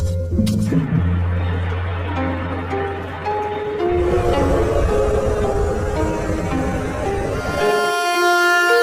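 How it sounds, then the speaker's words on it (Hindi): A loud, sustained train horn blares over the rumble of a train, then a second horn blast joins in near the end. "अरे ट्रेन तो हॉर्न दे रही है"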